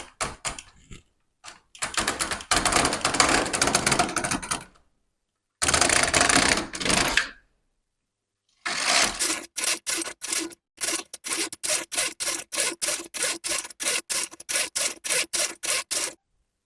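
A Silver Reed LK1 knitting machine carriage is pushed back and forth to knit rows of a mini scarf, making loud rattling sweeps, first in long runs, then in quick regular strokes repeated about a dozen times, close and without talk.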